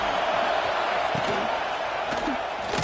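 A football stadium crowd gives a continuous, dense roar of cheering and shouting throughout, with a commentator talking over it.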